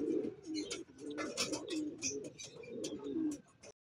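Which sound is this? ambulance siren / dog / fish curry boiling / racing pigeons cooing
racing pigeons cooing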